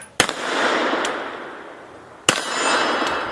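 Two sharp, loud revolver shots from a Colt-style handgun, one near the start and another about two seconds later, each a sudden crack followed by a lingering outdoor rumble, with no talking.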